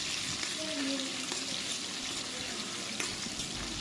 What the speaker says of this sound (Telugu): ఆయిల్ లైట్గా హీట్ అయిన తరువాత 1 టేబుల్ స్పూన్ జీలకర్ర, అలాగే 14 పచ్చిమిరపకాయలను ఈ విధంగా కట్ చేసుకుని వేసుకుని వేయించుకోవాలి.